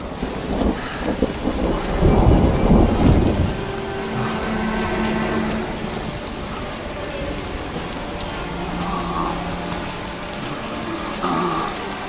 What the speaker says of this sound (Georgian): უბრალოდ წვიმაა, დარწმუნებული ვარ, მალე შეწყდება